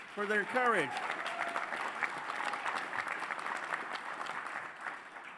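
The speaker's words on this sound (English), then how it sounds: "Let's give them a round of applause for their courage" Applause at a union legislative political conference for Maximus workers, a dense round of clapping with a few whoops at the start, holding steady and slightly fading toward the end.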